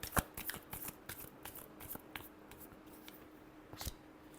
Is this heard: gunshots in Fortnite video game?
no